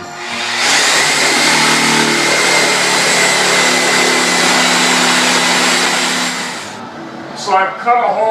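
A power saw cuts through drywall in a ceiling near the strapping, a loud steady buzzing whine for several seconds that then stops, followed by a brief voice.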